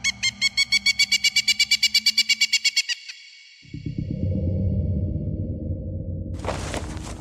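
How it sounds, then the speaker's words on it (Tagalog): Cry of the tiktik, the mythical aswang creature, rendered as a sound effect: a rapid train of about fourteen sharp, bird-like chirping pulses, then a low sweeping whoosh that swells and lingers. "narinig ko na ang huni ng tiktik"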